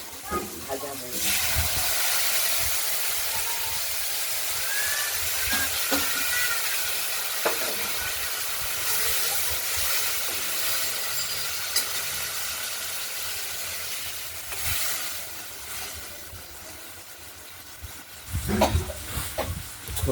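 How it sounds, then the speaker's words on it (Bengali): Spice paste sizzles and hisses steadily as it fries in a pan while a fish curry is cooked, the crackle swelling at moments, with a voice talking intermittently. "মশলাটা কষতে থাকুক"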